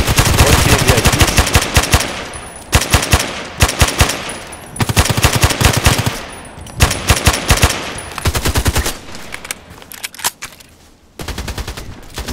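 An AEK-971 rifle firing in the shooter game Contract Wars, loud, close, rapid automatic bursts separated by short pauses, with no talking.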